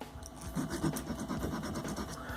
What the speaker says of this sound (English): you just scrape some brass from the tip.